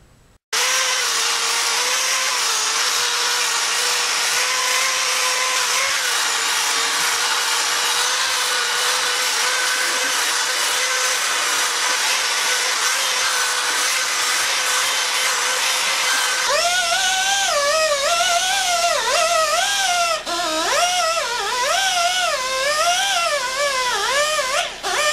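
Aluminum motorcycle part from an FZR restoration pressed against a large spinning buffing wheel, giving a loud, steady high-pitched whine that shifts into a warbling, wavering pitch partway through; no talking.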